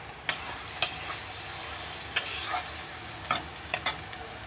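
Masala with tomato being stir-fried in a pan, a soft continuous sizzle broken by several sharp scraping strokes of a spoon against the pan at uneven intervals, close by and with no one speaking.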